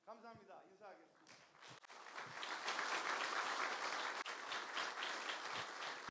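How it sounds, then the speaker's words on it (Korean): Loud, sustained applause from an audience at a university's 55th-anniversary honorary doctorate ceremony, swelling after a brief spoken opening and continuing densely to the end. "명예박사 학위를 수여받으신 두 분께 다시 한번 큰 박수 부탁드리겠습니다"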